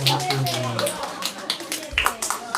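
An audience at a church revival meeting gives a short burst of clapping that fades out, with a voice speaking over the applause.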